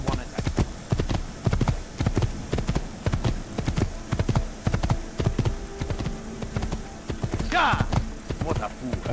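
Horse hooves clop in a fast, steady galloping rhythm in the Assassin's Creed video game, close and continuous, with a brief whoosh near the end.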